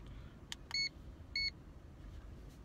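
A Bactrack S80 breathalyzer gives two short, clear electronic beeps about half a second apart during its countdown, close and isolated over a quiet, low background hum.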